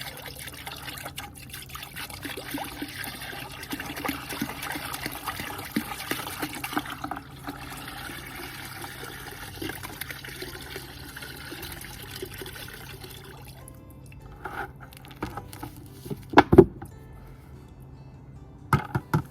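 Mineral spirits pour into a container while staining Douglas fir roof beams, a steady low liquid trickle running continuously for most of the stretch, with a few sharper knocks near the end.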